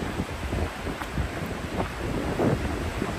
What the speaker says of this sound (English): And so windy.